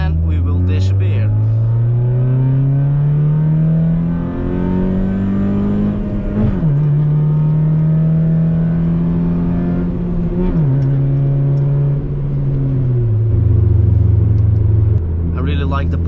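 Loud Hyundai Tiburon with an exhaust bypass accelerating through the gears, a strong close engine drone climbing in pitch with brief dips at each shift, running steadily throughout the clip.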